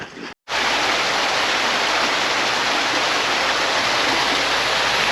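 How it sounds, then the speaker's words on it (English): River and a brook running down off the Great Ridge in winter Peak District countryside, a loud, steady broadband rush of flowing water heard close, continuous after a brief dropout at the start. "A river now, and a brook coming down there off the Great Ridge."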